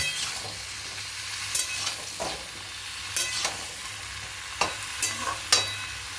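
Ridge gourd with a cut green chili fries in a pan, giving a low, steady sizzle. A spatula stirs it, adding sharp scraping clacks every second or so.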